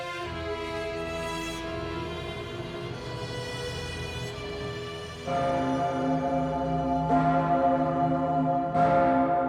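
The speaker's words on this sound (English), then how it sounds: "Every time the Pummerin, the biggest bell in Austria, rings" The Pummerin, the largest bell in Austria, tolls in Vienna with deep, sustained ringing; strikes recur with rich humming overtones, loud and reverberant, and no voices are heard.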